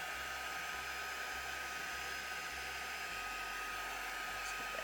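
A heat embossing tool blows hot air onto a card background to dry it, producing a steady, loud, close whine and rush of air without pause.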